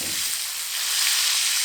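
Steak and garlic sizzle in butter in a cast iron pan, a steady, bright, close crackling hiss that carries on unbroken with no talking.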